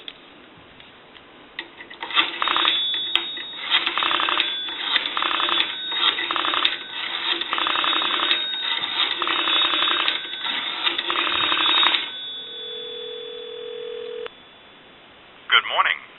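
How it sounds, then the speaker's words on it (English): A steady dial tone hums on a Northern Electric three-slot payphone, broken by a burst of touch-tone dialing beeps, then a brief pause and a faint line click at the end. "Give you some dial tone."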